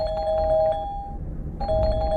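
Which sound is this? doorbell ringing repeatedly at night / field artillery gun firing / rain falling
doorbell ringing repeatedly at night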